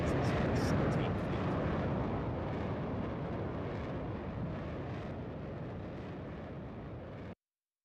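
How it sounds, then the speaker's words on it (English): Military aircraft Alpha Alpha 171, built in 2011, 15 meters long with a 10-meter wingspan, roaring past at the 2025 Seilam Airshow: a loud, dense engine rush that slowly fades, then cuts off. "The aircraft flying in front of you today, Alpha Alpha 171, was manufactured in 2011"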